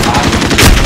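Burst of gunfire in the Modern Warfare video game around a headquarters building, loud and dense, a rapid crackle of shots through just under a second with no voices.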